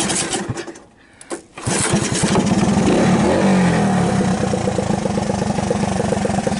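A 1980 Honda ATC 110 three-wheeler engine runs after a stator replacement, slightly rich. There is a brief rough stutter and near-stall at first, then a loud, close, steady idle that chugs evenly.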